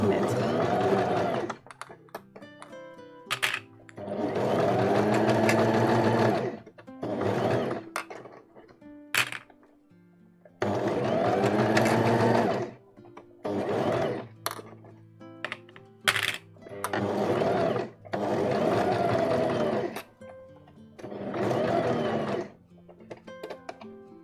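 A sewing machine stitching a dress, running in several bursts of steady mechanical whirring separated by pauses, with clicks and handling noises between runs, close and loud.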